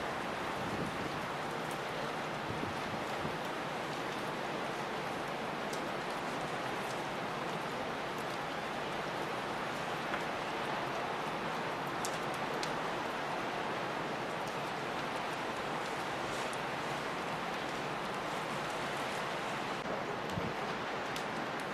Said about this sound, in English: it looks like it's raining